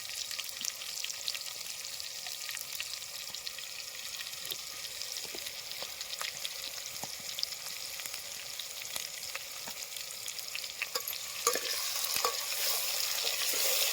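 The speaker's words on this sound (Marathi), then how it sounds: "हळद हे सगळं कांद्याबरोबर तळून घ्यायचं आणि मग आपल्याला" Onions and turmeric frying with mutton in hot oil, a steady loud crackling sizzle throughout, with occasional faint stirring clicks and the hiss swelling near the end.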